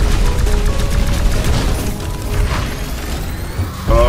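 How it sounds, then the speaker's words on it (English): Heavy gunfire from aliens in the video game Xmorph Defense, a dense, continuous barrage of booming shots and crashes that stays loud throughout with no pause. "We're taking heavy alien fire."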